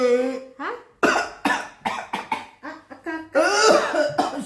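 An old man coughs hard and repeatedly at close range, a series of loud, raspy bursts separated by brief pauses, with a hint of throat clearing.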